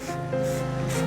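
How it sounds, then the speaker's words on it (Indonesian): Growmore fertilizer solution sprayed onto the leaves of ornamental plants in a garden gives a steady close hiss with slight pulsing over about a second, heard alone. "semprot daun-daunnya merata"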